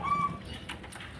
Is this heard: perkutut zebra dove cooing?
yes